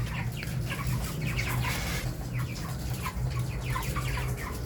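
Several hens cluck and murmur continuously nearby, a busy overlapping chatter of short calls over a low steady background hum.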